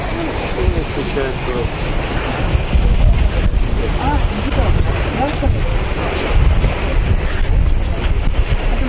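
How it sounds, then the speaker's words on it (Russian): A pleasure boat churns past on the Black Sea near the Swallow's Nest in Crimea, its engine a steady rumble beneath heavy wind buffeting the microphone. "Прогулочный катер, ребят."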